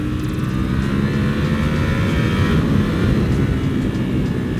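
A brand-new, not yet broken-in Ducati Panigale V4 SP motorcycle at speed on the road, a steady loud engine drone mixed with heavy wind rush, continuous and close throughout with no talk.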